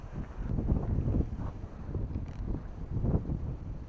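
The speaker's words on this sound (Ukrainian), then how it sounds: "а то уж дуже вітряно" Gusts of wind buffet the microphone in low rumbling bursts that swell and fade, with no voices, on a small bridge over a lake.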